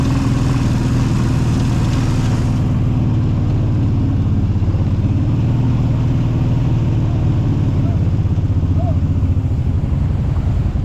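A quad bike (ATV) engine runs loud and close on a Männiku safari ride, a steady rumbling drone that holds throughout as the machine gets going, with voices faintly mixed in.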